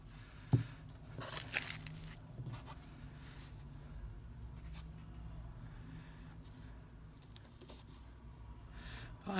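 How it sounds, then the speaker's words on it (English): A glassine paper booklet crinkles and rustles close up in quiet, irregular handling sounds, with a few sharper crackles scattered through. "And then you've got that lovely crinkly sound."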